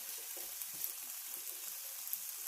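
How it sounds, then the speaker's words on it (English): Mushrooms fry in a pan for a Cajun tofu scramble, giving a quiet, steady sizzle with soft crackles and no talking. "So we have our mushrooms cooking."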